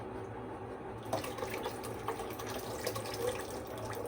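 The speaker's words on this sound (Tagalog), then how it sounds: "Babaran ko siyang init tubig." Hot water being poured over a plant from a scooped container, a steady liquid splashing and gurgling that runs continuously and fairly close, with no talking.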